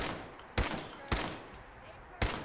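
Three sharp, loud shots from the player's gun in Fallout 4 ring out about half a second apart, each with a brief decaying tail, over a low ambient background bed.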